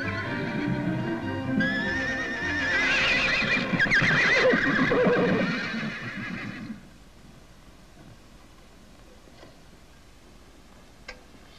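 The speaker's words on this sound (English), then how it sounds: "Horses is plumb spoiled, ma'am. They're always wanting attention." Horses neigh and whinny loudly and close by, several overlapping calls over the first seven seconds, with faint hoof clops, before quieting to low background noise with a single small tick near the end.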